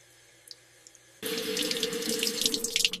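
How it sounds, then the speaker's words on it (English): Water gushes from a household tap into a sink, starting abruptly after a quiet moment with faint clicks, then a steady close splashing stream that continues to the end. "I turn on the water."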